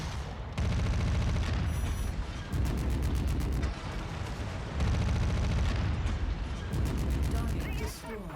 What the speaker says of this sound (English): This isn't turning into too bad of a firefight